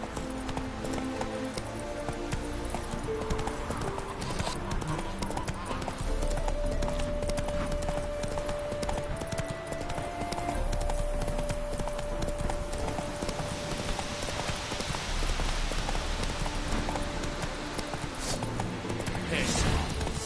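Hooves of a horse galloping in The Witcher 3: Wild Hunt – Hearts of Stone, a steady clip-clop running throughout over game music, with a sustained tone in the middle.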